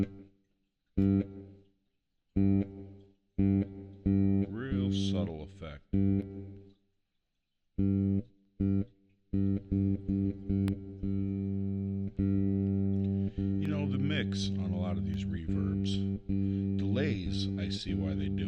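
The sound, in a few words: playing with reverb effect on a Zoom B6 pedal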